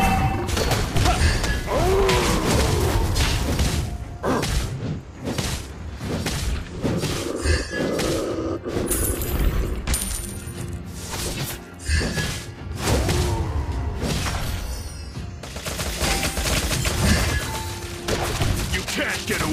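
Gunfire from the hero Roger in a Mobile Legends match, heard as repeated thumps and blasts within dense, continuous game combat effects and music, loud throughout.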